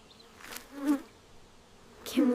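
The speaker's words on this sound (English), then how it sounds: "A giant bee!" A giant bee in an animated backyard nature adventure gives off short bursts of buzzing, three brief swells spread across a quiet moment with no talking.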